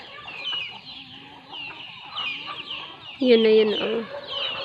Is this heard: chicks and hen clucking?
yes